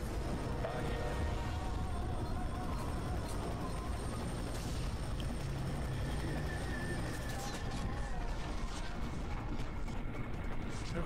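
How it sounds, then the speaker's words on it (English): A helicopter in the shooter game F.E.A.R. roars as a steady, dense mechanical drone through the whole stretch, with rattling clatter and game noise layered over it. "Just killing this helicopter."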